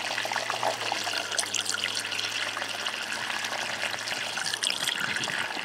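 Washer fluid pours into a car's windshield washer reservoir in a steady, splashing trickle, a constant wash of watery noise with a low hum underneath and no talking.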